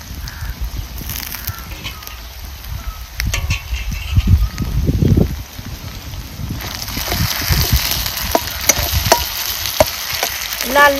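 Ground masala paste and chicken stir-fried in a pan for a dry Maharashtrian chicken dish, with steady sizzling and frying crackle plus scattered scraping and clinks of a stirring spoon, loud and close.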